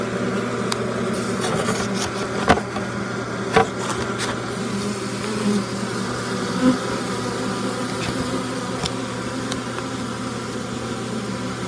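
Honeybees buzzing inside a hive during a late-winter check, a steady dense drone with a few brief clicks and taps over it, no voices.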